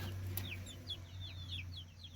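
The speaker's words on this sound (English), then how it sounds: "Look at that beautiful little hen, that brown one right there." Brown hens and other young chickens clucking softly in a backyard coop, a run of short chirpy calls repeating over a steady low hum, fairly faint and without talk.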